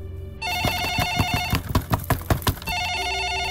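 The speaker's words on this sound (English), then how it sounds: "Phone." A telephone rings in a repeated electronic tone pattern, loud and close, with sharp bursts in the middle of the ring.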